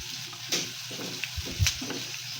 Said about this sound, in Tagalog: Igisa ang sibuyas. Puting sibuyas ang ginamit yan